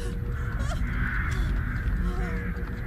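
Crows caw loudly and repeatedly in the Dead by Daylight horror game, harsh overlapping calls over a dense, rumbling game ambience.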